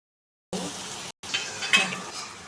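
Pointed gourd pieces hit hot oil already seasoned with mustard seeds, cumin and asafoetida, bursting into a loud, hissing sizzle after a brief silence, with a split-second dropout and then continued crackling and stirring.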